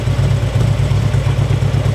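A Harley-Davidson motorcycle engine idles steadily up close at normal idle, with a loud, lumpy low rumble and uneven pulsing beat.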